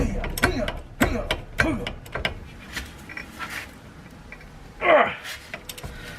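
Mechanic's ratchet clicking while working the brake caliper bolt on a Mazda MX5 Miata, rapid metallic ratcheting bursts early on, then a louder clack near the end, close and fairly loud with no talk.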